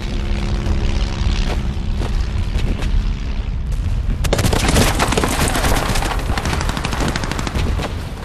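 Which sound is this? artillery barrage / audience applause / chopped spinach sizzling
artillery barrage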